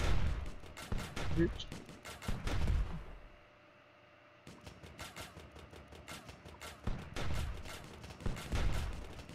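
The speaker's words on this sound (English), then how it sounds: "Fire machine guns." Rapid machine gun bursts from a steampunk tower-defense game, Steampunk Tower 2, crackle in loud repeated volleys with a short lull in the middle, while someone talks over the shooting.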